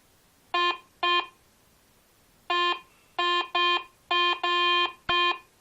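A Garrett ACE 250 metal detector sounds a series of electronic beeps over Ukrainian coins, some short and some held longer, in irregular bursts with pauses between, fairly loud and close.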